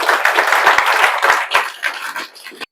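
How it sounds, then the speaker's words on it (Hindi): An audience at a JEE Main 2025 results celebration for top-scoring students breaks into loud, close applause with a few sharp individual claps, building densely then thinning out and fading toward the end. "तो इसके लिए आप लोग जोरदार ताली बजा दीजिए"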